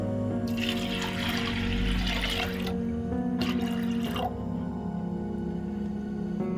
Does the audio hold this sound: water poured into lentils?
yes